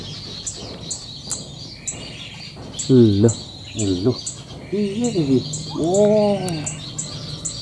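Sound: prinia (perenjak) bird chirping near a trap

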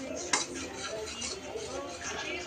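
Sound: stirring peanut powder into sugar syrup

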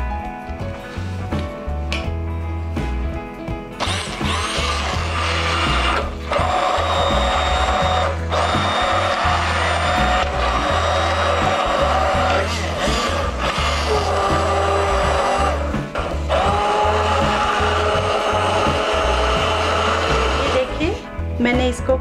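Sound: electric blender blending food

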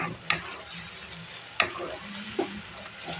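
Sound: shrimp frying in a pan

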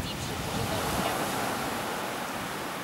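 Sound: ocean waves breaking, surf

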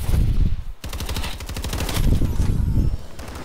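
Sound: gunfire in video game Call of Duty Advanced Warfare gun game

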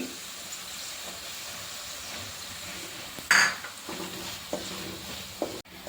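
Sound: stirring spice powders into sautéed onions for carrot pickle

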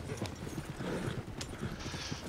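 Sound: horse hooves clip-clopping in a video game

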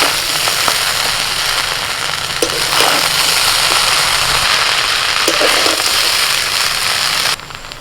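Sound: stir-frying rice while mixing in Schezwan sauce

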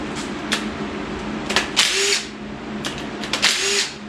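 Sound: quarter-drive impact wrench removing bolts from 283 engine

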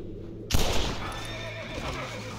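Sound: horse neighing in a video game

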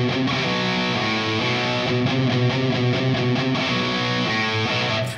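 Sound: guitar playing riff with pitch change

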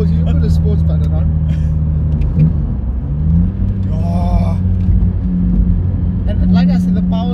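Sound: sports car engine with individual throttle bodies

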